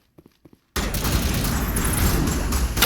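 Pistol gunfire in the game Mass Effect Legendary Edition: after a brief murmur of a voice, a loud, dense burst of rapid shots and rumbling impacts erupts and continues without pause.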